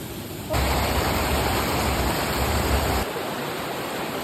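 A waterfall pours into a pond on a mountain stream, a loud, steady broadband rush of water that starts suddenly and holds for about two and a half seconds before dropping away to quieter ambience.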